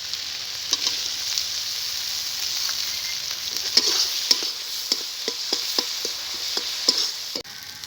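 Chopped tomato with turmeric and spices frying in a pan for egg biryani masala, a steady close sizzle broken by a series of light clicks from stirring.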